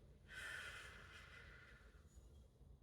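One soft, close inhalation during a prenatal breathing exercise, a brief airy draw lasting about a second and a half, then fading to near quiet.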